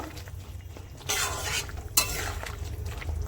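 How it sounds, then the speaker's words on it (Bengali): Fried bitter gourd stirred into a curry in a pan, a soft bubbling sizzle with spoon scrapes and a sharp clink of utensil on metal, growing louder midway. "দিয়ে ভালো করে একটু নাড়াচাড়া দিয়ে নেব"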